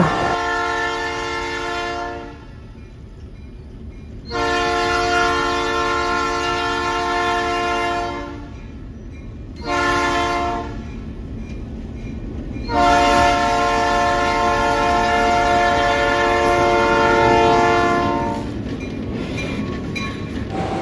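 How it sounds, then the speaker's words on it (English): A locomotive horn sounds in several long blasts with pauses between them at a railroad crossing, loud and close, over the rumble of a passing train. "so we can at least hear that horn go by"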